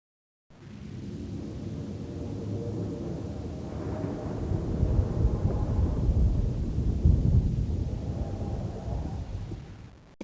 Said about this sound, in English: It sounds like distant thunder.